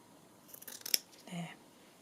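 Scissors snip across frayed fabric for a stamped fabric tag: a couple of quick, close, crisp cuts followed by a short rasping slide, quiet overall.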